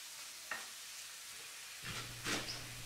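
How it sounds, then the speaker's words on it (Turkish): A quiet, steady sizzle of one onion frying in 2-3 tablespoons of olive oil in a wide pan, with a couple of soft stirring scrapes. "Bir tane soğanı 2-3 yemek kaşığı zeytinyağında kavurdum."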